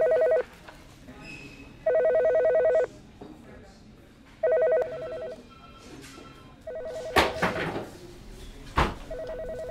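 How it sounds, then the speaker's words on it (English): An office telephone rings in repeated electronic bursts of about a second each with pauses between, fairly close and loud, followed by a few sharp knocks and rustles. "Why'd we let Slapshot answer the phone?"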